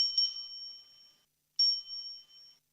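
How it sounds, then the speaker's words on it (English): Two bright bell rings a second and a half apart, each a clear metallic ding that decays slowly, heard alone and fairly close. "you guys hear that bell?"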